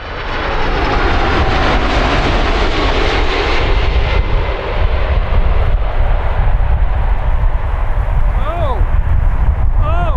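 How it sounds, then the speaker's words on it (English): A Boeing 747 lands hard after a late flare, with a loud, steady roar of jet engines and rushing air that stays strong and close throughout. "This Boeing 747 suffered a hard touchdown after flaring too late."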